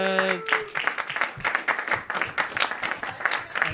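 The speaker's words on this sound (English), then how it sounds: "Start clapping for your next artist." An audience claps and cheers at a roast battle comedy show as the next comedian is introduced. A dense, steady crowd applause runs throughout, loud and close, after a brief musical tone at the start.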